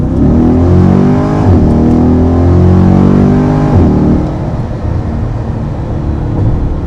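C8 Corvette fitted with an AWE touring exhaust, heard from inside the cabin with windows up: a loud, deep engine rev that rises and falls in a couple of throttle blips, then settles into a rumbling drone.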